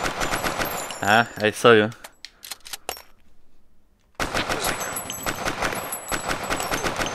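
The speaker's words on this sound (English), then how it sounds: "Oh guy, shut up with this machine gun." Bursts of rapid machine gun fire in the VR shooter Crisis VRigade rattle out in two loud volleys separated by a brief quiet gap, with a player speaking briefly.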